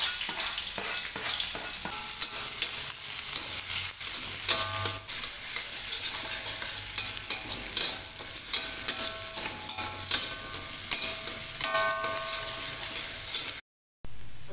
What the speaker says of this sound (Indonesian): Sudah panas, dimasukkan bawang merah,